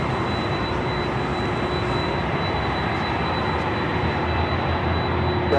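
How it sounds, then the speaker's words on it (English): A Delta Boeing 767-300ER jet departing LAX for Honolulu roars in a loud, steady engine rumble with a broad hiss, heard from a distance across the airfield. "You're hearing that Delta 767-300ER heading to Honolulu"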